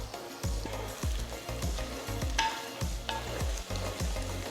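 Curry leaves sizzle steadily in oil with slit green chillies while stirred in a pan for Tamil fish curry, with repeated scraping strokes in a regular rhythm, close and fairly loud.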